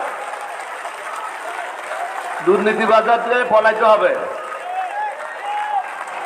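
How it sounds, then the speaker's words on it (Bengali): A crowd at an outdoor election rally claps and cheers, a loud burst of applause rising midway and fading, while a speaker's amplified voice carries on over it. "এটা জোরে তালি মারেন, দেখি জোরে জোরে মারেন।"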